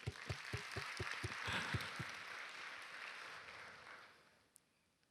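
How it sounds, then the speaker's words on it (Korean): Church congregation clapping at a Friday prayer service, a burst of dense applause that swells and then fades out over several seconds, heard fairly faint and distant. "하나님께 영광의 박수"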